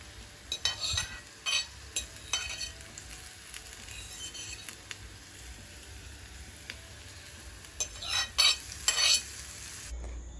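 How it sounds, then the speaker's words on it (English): Seasonings sautéing in a pan for a breadfruit salad: bursts of clattering stirring against the pan come near the start and again near the end, with a soft, quiet sizzle in between. "In sauteing the seasonings, you do not have to use oil."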